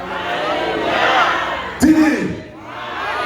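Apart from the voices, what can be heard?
church congregation shouting Alleluia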